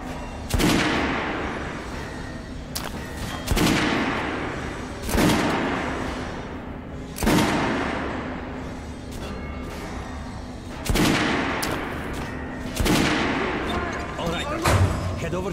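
Gunfire rings out at a shooting range in the video game Metro Last Light: about eight loud single shots spaced a second or two apart, each with a sharp crack and a trailing echo, with voices talking between them.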